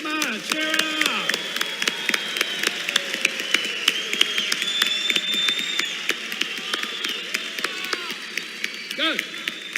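Audience applause at a financial education seminar: a large crowd clapping and cheering continuously and loudly, with dense sharp claps throughout and voices calling out over it.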